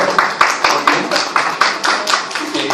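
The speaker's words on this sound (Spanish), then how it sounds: "Bravo, el aplauso, aplauso." Students applaud in a classroom at the end of a physiology lesson, a short burst of fairly sparse, close hand claps in an uneven rhythm, with a few overlapping claps and no talk over them.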